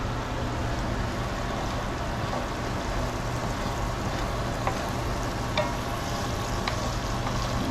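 Vodka sauce with olive oil cooks in a pan, giving a steady low sizzle and bubbling with a few faint clinks of a utensil, and no talking.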